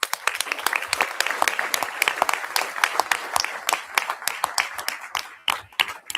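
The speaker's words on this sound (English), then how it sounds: "I think both teams deserve a little round of applause for that" A room at a D128 school board meeting gives a short round of applause for the school teams, a few dozen distinct claps close by that thin out and stop.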